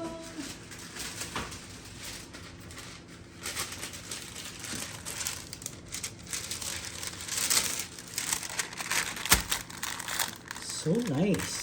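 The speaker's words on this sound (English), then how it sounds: "So I'll use a little square of parchment and put it on top of that." Parchment paper crinkles and rustles softly as a small square is pressed onto keto chocolate ice cream, the faint irregular crackles close by amid low background noise.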